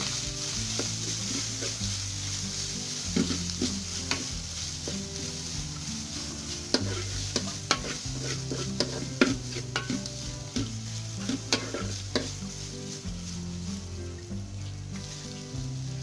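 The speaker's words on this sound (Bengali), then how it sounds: "একটা নারকেল পুড়িয়ে নিয়েছি মানে এটা হালকা একটু ফ্রাই করে দিচ্ছি" Coconut fried in a pan for a sweet chana dal halwa, stirred steadily: a continuous sizzle with repeated scraping and stirring strokes throughout, close and alone.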